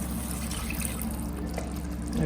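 Water pours into a paneer masala gravy on a high flame, making a steady low rushing and splashing sound for a couple of seconds with no speech.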